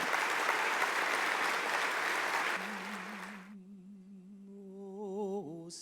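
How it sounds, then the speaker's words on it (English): Crowd applause at an athlete awards ceremony, dense steady clapping that fades out after about three seconds as a sustained sung note begins and carries on alone. "So give them a round of applause for that."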